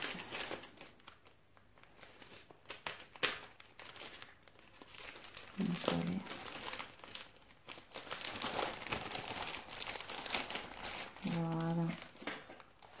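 Parcel packaging crinkles and rustles close by as parcels are opened, soft intermittent crumpling running under conversational speech.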